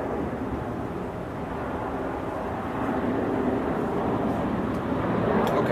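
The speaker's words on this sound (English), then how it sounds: "You'll hear the planes flying over, like this one coming up." An airplane passing overhead as a low, broad rumbling drone that holds steady and grows slightly louder toward the end, with no talking.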